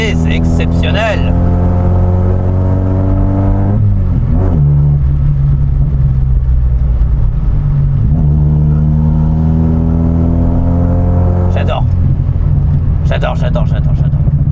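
A Ford Escort MK3 engine revs hard while driving, climbing repeatedly through the gears with loud, rising drones broken by shift dips, and voices talk over the engine at moments.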